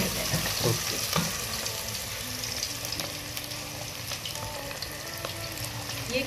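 Handi kebabs fry in a pan over lowered heat with a continuous close sizzle, broken by a few light knocks of stirring and no voices.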